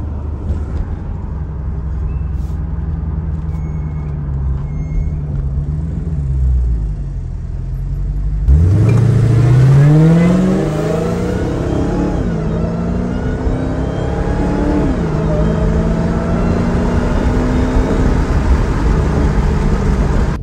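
A Dodge Challenger Hellcat cruises through Las Vegas with a low, steady engine rumble, then its V8 revs hard midway with a sharp rising snarl before settling into a loud, sustained drone.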